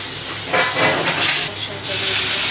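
Garlic, onion and mushrooms frying in a pan, giving a steady close sizzle and hiss with occasional louder bursts as they are stirred.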